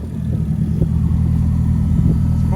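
A BMW E36 with a big-turbo K24 engine swap and a fixed exhaust idles steadily, close and loud, its deep low rumble holding constant with a couple of faint blips.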